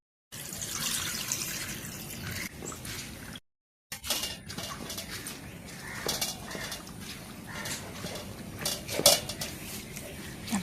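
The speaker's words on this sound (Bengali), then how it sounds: "পাতাগুলো কাটা হয়েছে, আমি ধুয়ে নিব।" Cut taro leaves are washed in water at a sink, with splashing, running water and clattering of dishes and utensils, briefly cut off by a gap of silence before resuming.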